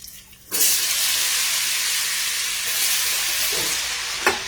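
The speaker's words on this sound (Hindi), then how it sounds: "इसे भी सबसे पहले हम एक डाल के फ्राई करेंगे, पूरी तरह से गरम है।" Banana or lotus stem chips dropped into hot oil, a sudden loud burst of bubbling hiss that then holds as a steady, dense frying roar close by, with a light clatter near the end.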